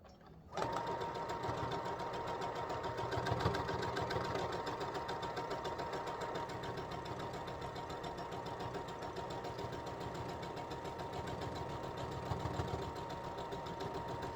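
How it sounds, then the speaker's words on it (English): A sewing machine starts up and then hums steadily for a long stretch while stitching fabric scraps together for a hot mat. The motor whir is continuous and mid-loud, with slight rises in pace. "and you sew it down."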